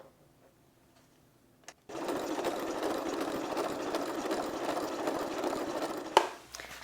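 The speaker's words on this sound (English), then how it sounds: "we're going to straight stitch on a 1/4 inch seam allowance" A sewing machine straight stitching a quarter-inch seam through a vinyl yoga mat bag, a steady whirring run of about four seconds after a brief start, ending with a clunk.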